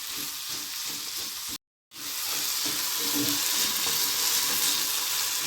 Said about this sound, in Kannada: ಬೆಳ್ಳುಳ್ಳಿ ಒಂದೊಂದಾಗಿ ಹಾಕಿ ಈರುಳ್ಳಿ ಎಲ್ಲ ಚೆನ್ನಾಗಿ ಫ್ರೈ